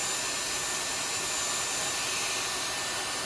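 A Dyson Airwrap blows hair dry with a steady, loud, close whooshing whine of rushing air, unbroken and even throughout, no voices over it.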